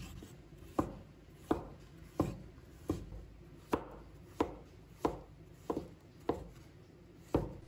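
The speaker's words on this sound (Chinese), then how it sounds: "先把它切成大块，然后再切成片，片也切薄一点" A knife chops Chinese yam into thin slices on a cutting board: about ten sharp, evenly spaced, close-up cuts in a steady rhythm, with no talking.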